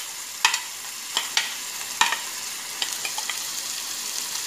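Onion, curry leaves and chillies sautéing in a pan for masala upma, a soft continuous sizzle with a few sharp utensil scrapes and taps spaced through it, close and without speech.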